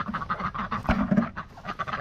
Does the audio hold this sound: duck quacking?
yes